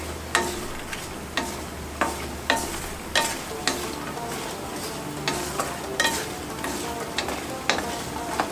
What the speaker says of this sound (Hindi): अब हम मखाने डाल देंगे इसी घी में और इनको हम फ्राई कर लेंगे अच्छी तरह से